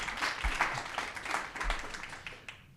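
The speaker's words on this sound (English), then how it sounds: "maybe we can welcome Jenny with a warm round of applause." A live studio audience in a small black-box theatre gives a warm round of applause for an arriving guest, dense steady clapping from many hands that fades out near the end.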